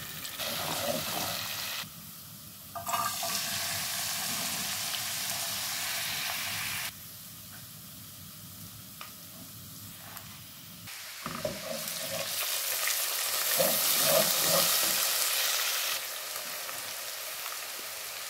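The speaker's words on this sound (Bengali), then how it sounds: "এদিকে পেঁয়াজ আর রসুনটারে ব্রাউন কালার করে ভেজে নিচ্ছি" Onion and garlic browning in a pan for a curry, with a steady broadband sizzle that swells and dips in several sections, at moderate volume and with no talking.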